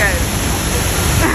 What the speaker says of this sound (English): Hey, so we are at La Fortuna Waterfalls.